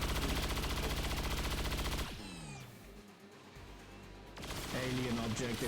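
Rapid cyclic gunfire from a weapon in XCOM 2 Long War, loud sustained bursts that cut off sharply, pause for a couple of seconds amid lighter clatter, then resume at full intensity.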